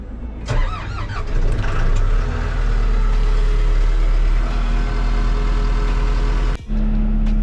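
A bulldozer engine cranks and catches, then settles into a steady loud diesel idle while warming up, with a brief dip near the end before it carries on running.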